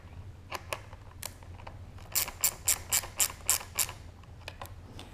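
Ratchet snugging down bolts on a motorcycle tail tidy during a Husqvarna FE 501s build: scattered single clicks, then a quick run of six loud ratcheting clicks, then a few more sparse clicks, close and alone.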